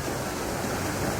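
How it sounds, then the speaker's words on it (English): An artificial waterfall at Six Flags park pours in a loud, dense, unbroken roar of falling water heard up close. "Here's waterfall number 2."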